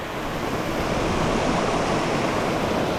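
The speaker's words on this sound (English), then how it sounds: "The first waterfall crossing." A constant roar of rushing water from a waterfall pouring into a stream in Scotland, loud and close with no pauses or voices.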